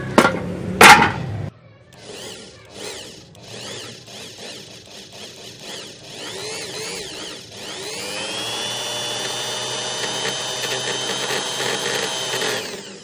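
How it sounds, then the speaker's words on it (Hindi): An electric drill bores a hole through the iron frame of a folding chair being repaired: a few loud clanks, then the motor spins up into a steady, close, high whine that holds to the end. "अब हम इसके यहाँ पर लोहे में सुराख करेंगे आर पार।"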